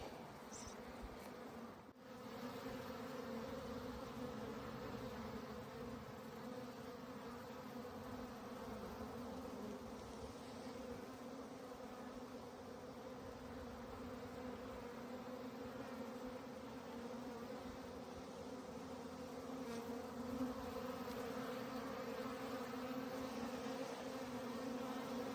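Honey bees buzz steadily around an opened hive during a queen-rearing inspection, a dense, continuous drone close by that holds level throughout with no voices.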